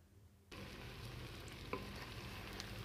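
Spices stirred into a moong and chana mix in a pan over medium flame, a steady low sizzle with soft scraping strokes and one sharper clack of the spoon partway through, starting after a brief quiet moment.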